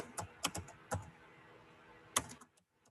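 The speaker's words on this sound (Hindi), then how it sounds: "अब देखिएगा Ctrl+H प्रेस कर रही हूँ मैं" Computer keyboard keys pressed while using Microsoft Word, including a Ctrl+H shortcut: a few separate crisp clicks, mostly in small bursts, quiet and close over a faint background hiss.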